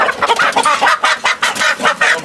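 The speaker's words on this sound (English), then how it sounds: "You see my chickens." Pure local breed hens and a cock cluck close by in quick, overlapping rhythmic bursts, loud and busy with no talk over them.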